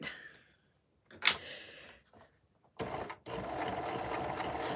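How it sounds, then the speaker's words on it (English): A toy sewing machine runs in two short bursts of steady mechanical whirring, close and moderately loud, after a few quiet clicks and handling sounds. "See, I can prove to you, you can do this even on a toy machine."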